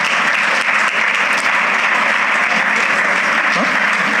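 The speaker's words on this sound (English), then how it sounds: "a round of applause as she comes up" Sustained audience applause at an education summit award ceremony in Ibadan, loud and continuous clapping from a full hall as an award recipient walks up, with no speech over it.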